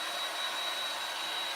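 A handheld hair dryer runs steadily and loudly indoors, a constant airy whoosh with a thin high whine, continuous throughout with no voices.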